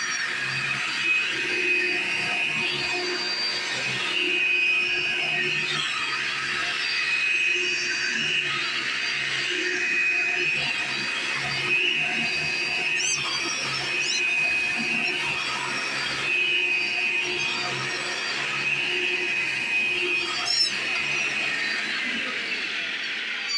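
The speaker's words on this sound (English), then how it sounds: "this vacuum is from 2000" A Kmart-exclusive vacuum cleaner from 2000 running on carpet, with a steady, loud motor whine and airflow roar that holds for the whole stretch, close by and with no talking.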